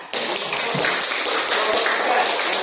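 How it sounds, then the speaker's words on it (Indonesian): Classroom applause from a group of students during a teaching session, a dense steady wash of many hands clapping that starts abruptly and holds loud throughout. "aplaus, tepuk tangan"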